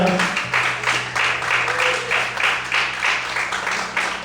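A church congregation claps in rhythmic bursts, roughly two per second, over a sustained low tone, loud and steady throughout.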